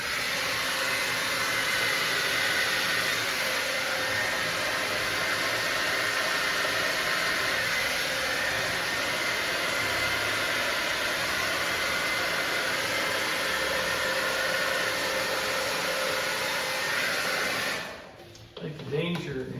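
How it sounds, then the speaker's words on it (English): A hair dryer blows steadily on wet paint, a loud close continuous whooshing roar that runs for most of the stretch before cutting off near the end. "The danger in blow drying it too much is that you'll kind of make mud by just mixing the paints too much."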